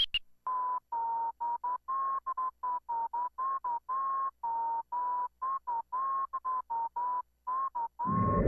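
A steady electronic tone from a Pioneer DDJ-REV1 DJ controller's pitch slider, chopped into many short, irregular beeps, its pitch wavering only slightly, ending in a burst of noise.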